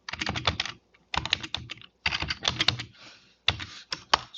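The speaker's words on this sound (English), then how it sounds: "we go ahead and type the password" Quick bursts of typing on a computer keyboard, close and clear, with crisp key clicks in short clusters separated by brief pauses.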